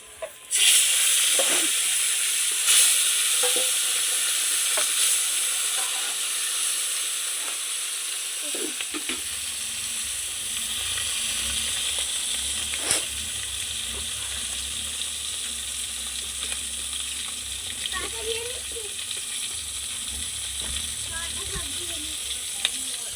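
Koi fish frying in hot oil: a bright, continuous crackling sizzle that stays strong throughout, with occasional clinks and scrapes of a utensil and a low background rumble joining partway through.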